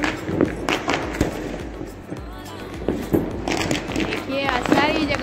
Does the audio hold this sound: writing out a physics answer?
no